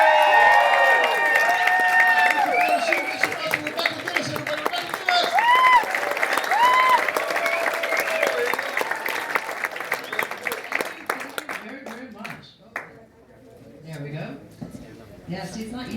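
A comedy club audience applauds and cheers loudly, with dense clapping and whoops, then the ovation thins out into scattered claps and crowd voices.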